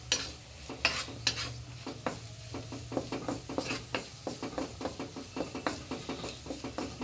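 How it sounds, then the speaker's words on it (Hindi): Raisins roasting in a hot pan crackle and sizzle softly while a spoon scrapes and taps against the metal in a steady, repeated stirring rhythm, close and fairly quiet, with no talk. "यहाँ पे बहुत अच्छी तरीके से किशमिश भुन गई है"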